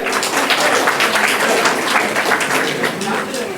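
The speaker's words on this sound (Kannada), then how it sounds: "ಎಲ್ಲ ಚಪ್ಪಾಳೆ." An audience at a Bharatanatyam performance claps continuously, a dense, even patter of many hands at moderate loudness lasting the whole stretch.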